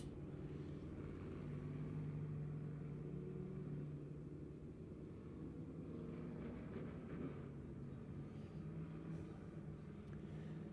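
Pure Stock race cars rumble together on a dirt oval at Lebanon Midway during a restart, a steady low engine drone sustained throughout with no clear acceleration peaks.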